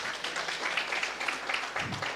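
Audience clapping at a network launch event, a brief, moderately loud burst of many hands applauding in a steady, even patter.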